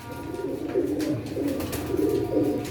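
Several pigeons, including teddy pigeons kept in pairs, coo steadily on a rooftop loft, their low rolling calls overlapping in a continuous murmur at moderate loudness with no talking.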